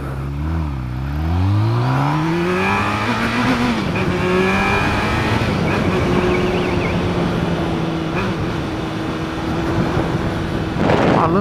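A Honda Hornet motorcycle riding through city traffic, its loud engine rising in pitch as it accelerates, then holding a steady drone with wind and road noise, a brief rattle near the end.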